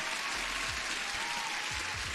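A short burst of applause plays steadily for about two seconds at moderate level, with no one talking.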